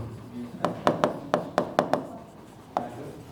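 Marker or chalk tapping and scratching on a board in a lecture room: about eight sharp knocks in an irregular rhythm, close and fairly loud, with a voice speaking faintly underneath.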